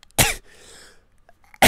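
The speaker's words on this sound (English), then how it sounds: "oh shit, I'm gonna sneeze." Two sharp, loud bursts of sneezing come close to the mic with quiet breathing between them, the second sneeze cut off at the end; nobody speaks.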